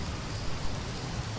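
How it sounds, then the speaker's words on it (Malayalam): Steady rain falling at night, a continuous soft hiss of drops with a low rumbling undertone, even and unbroken throughout with no voices. "എപ്പോ തുടങ്ങിയ മഴയായിരുന്നു"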